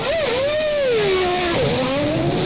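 Michael Schumacher's Formula 1 car at the 2001 Canadian Grand Prix, its engine note rising and falling in pitch as it brakes and enters the pit lane, loud and continuous, with no talk.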